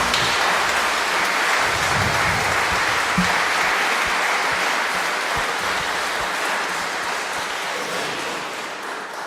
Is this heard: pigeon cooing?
no